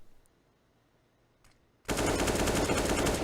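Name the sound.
gunfire in the video game Counter-Strike, map Vertigo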